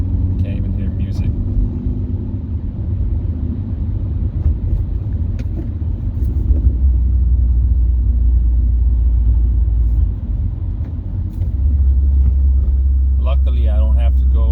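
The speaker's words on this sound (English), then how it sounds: "I don't think I can take a loud exhaust every day." A loud, deep engine drone rumbles continuously from a car driven without a catalytic converter, with a brief rise in exhaust roar partway through and a few faint higher sounds.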